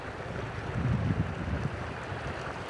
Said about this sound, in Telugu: వాటర్ సౌండ్ కూడా మీకు వినిపిస్తుంది అనుకుంటా ఒక్కసారి వినండి